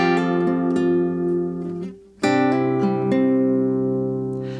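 Fingerpicked acoustic guitar riff played over the verse chords of a song, with plucked notes and ringing chords in two short phrases, close and clear, without voices.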